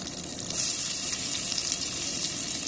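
Garlic sizzling in hot oil in a pan, the start of a dried fish curry, giving a steady close hiss and crackle that holds evenly throughout with no speech.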